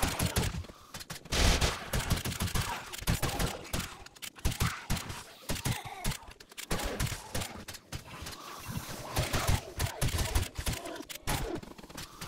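Shotguns boom repeatedly in 7 Days to Die, loud close blasts in a rapid, uneven string with brief gaps between volleys, over dense game noise.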